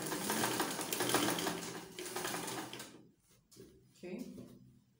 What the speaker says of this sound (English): This time we're sewing with 1/4 inch, not ½ inch.